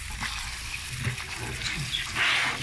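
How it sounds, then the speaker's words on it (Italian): Cold water runs and gushes over black olives being rinsed in colanders, a steady close splashing wash that swells louder near the end. "Adesso noi facciamo una bella sciacquata con acqua fredda"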